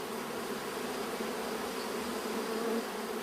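Honeybee worker bees buzzing around a hive in an apiary, a dense steady hum with many overlapping wingbeats, moderately quiet and continuous throughout, no voices.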